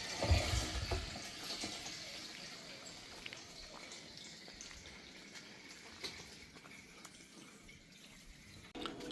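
Water pours back into a container, opening with a brief splashy gush and then settling into a faint, steady trickle. No one speaks.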